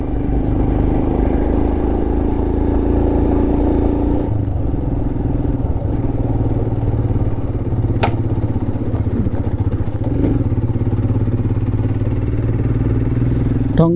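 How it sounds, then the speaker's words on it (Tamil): A Royal Enfield Himalayan motorcycle being ridden, its engine droning steadily and loudly throughout along with wind and road rumble, with a brief sharp click partway through and no speech. "பைக் எடுத்துகிட்டு கிளம்பணும்."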